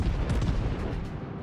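The battleship Missouri fires its naval guns in World of Warships, a deep heavy rumbling boom that rolls on for a moment.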